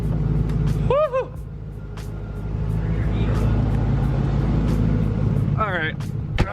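A Corvette pulls out on a cold morning, its engine rumbling low and steady at close range, with a short whoop of voice and some talk over the drone.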